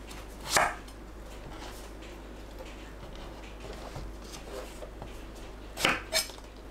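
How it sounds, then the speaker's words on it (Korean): A knife trimming the ends off an eggplant on a cutting board, two sharp thuds several seconds apart, the second followed by a quick extra knock, over a quiet kitchen background. "가지는 양끝을 잘라냅니다."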